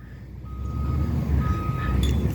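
Garbage truck reversing on a residential trash-collection day, its backup alarm sounding a steady series of loud, evenly spaced beeps over the rumbling idle of the diesel engine.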